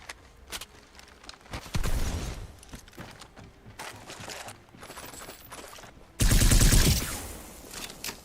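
Missile launches in Apex Legends, a few loud whooshing bursts separated by quieter game noise, the last blast heaviest and sustained for about a second.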